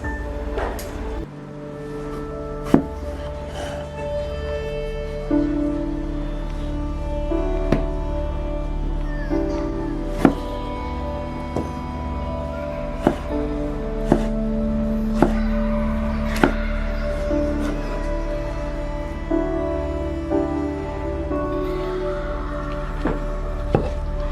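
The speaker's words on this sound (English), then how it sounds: "starting with our tomatoes, we want to chop them up first" Knife chopping fresh tomatoes on a board for a Manadonese citrus dabu-dabu relish, a series of sharp, separate close-up strikes at an uneven pace over a steady low room hum.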